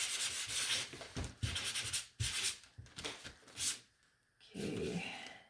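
A painted wooden Hello Spring sign is sanded by hand in a series of quick, close, rasping strokes with short pauses between them, ending in one longer, duller rub.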